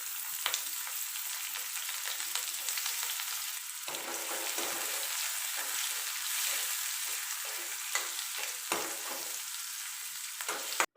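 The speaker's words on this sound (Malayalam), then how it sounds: "ടീസ്പൂൺ വെളിച്ചെണ്ണ ഒഴിച്ചത് കേട്ടോ ഈ കറിവേപ്പില ഇത് ഇതിലിട്ട് കൊടുക്കുക" Curry leaves dropped into a teaspoon of hot coconut oil for a fish curry crackle and sizzle loudly and continuously up close, with sharp spitting pops and a few utensil clicks breaking through.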